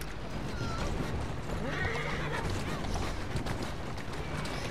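A horse whinnies and its hooves clip-clop with creaking carriage mechanisms in the Victorian London streets of the video game Assassin's Creed Syndicate, a busy, steady mix with voices faintly underneath.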